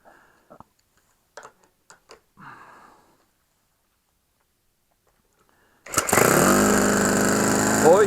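A small engine, most likely a lawn mower, starts abruptly after a few quiet clicks and faint handling noises, then keeps running loud and steady close by until the end.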